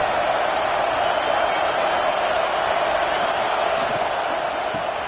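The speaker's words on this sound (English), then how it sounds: "This crowd bringing the energy and noise early." Steady roar of a big stadium crowd, dense and continuous with no single voice standing out.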